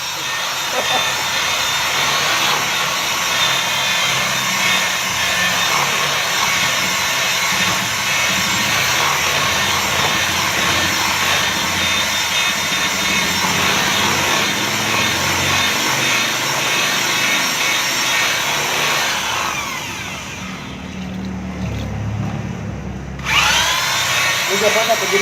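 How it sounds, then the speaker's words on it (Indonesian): Electric drill fitted as a mixer whirring steadily through flour and egg batter, a continuous close buzzing whine that cuts out briefly near the end and then restarts. "Di blendernya pakai bor."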